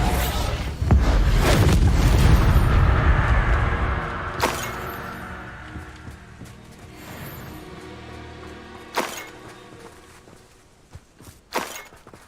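A Bombarda explosion spell going off in Hogwarts Legacy, a loud booming blast with crashing debris in the first few seconds, trailing into a fading rumble with a few sharp impact cracks afterward.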